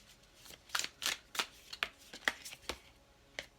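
Oracle cards are shuffled up close in a quiet room, about ten quick papery riffling bursts in an uneven rhythm, with no voices.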